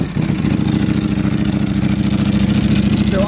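A Ducati Panigale V4R motorcycle engine with a dry clutch idles loud and close, a steady, throbbing mechanical rumble with a busy rattle layered over it.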